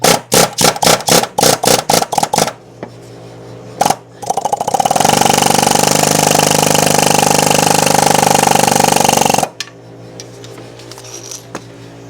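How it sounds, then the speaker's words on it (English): A pin being driven out of the front drive shaft of a Polaris Sportsman 800 ATV: about a dozen quick, sharp metallic hammer strikes close by, followed by a long, loud, continuous mechanical roar. "First thing I gotta do is push this pin through that holds the drive shaft to the front gear case"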